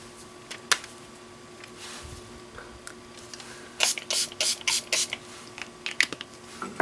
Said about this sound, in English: Spritz my palette here.